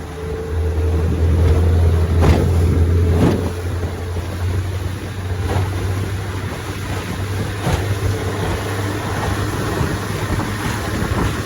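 Steady drone of a 1957 Johnson 18 HP outboard motor running a small Feathercraft boat on water, louder at first then settling to a constant hum, with wind noise.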